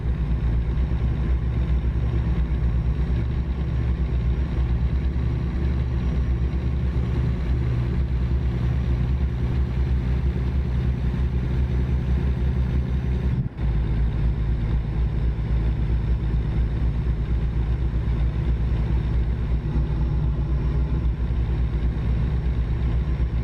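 A truck engine drones steadily while driving in American Truck Simulator, a constant low rumble with wind-like noise throughout and one brief dip near the middle.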